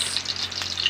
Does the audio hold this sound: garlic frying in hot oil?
yes